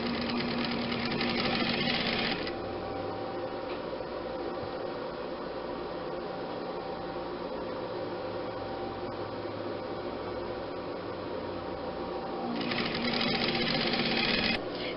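A sewing machine stitching pillowcase fabric runs steadily and close by with a continuous whirring, rattling drone, louder and brighter at the start and end as the motor speeds up.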